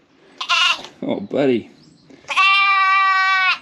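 A large lamb bleats loudly on a sheep farm: one long, steady, nasal bleat near the end, with shorter animal calls before it and a voice speaking at the start.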